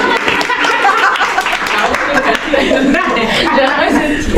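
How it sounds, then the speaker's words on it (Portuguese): Guests at a bridal shower in Lisbon clap and laugh together, a busy mix of applause and chuckling with voices talking through it at close range. "Palmas pro Zion também."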